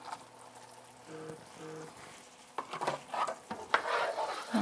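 A spoon stirs creamy pesto pasta with Parmesan cheese in a pan over low heat, giving soft wet scraping and sticky squelches that grow busier toward the end, with faint sizzling underneath.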